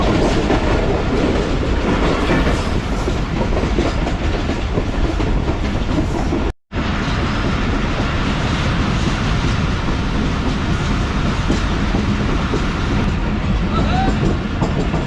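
The Pak Business Express passenger train runs at speed with a loud, continuous rumble and rattling clatter of the carriages. The roar drops out for an instant midway.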